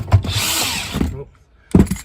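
A 3/8-inch ratchet from a mobile mechanic's tool loadout makes about a second of close, loud, buzzing mechanical whir, then stops abruptly. After a short pause, a voice begins speaking.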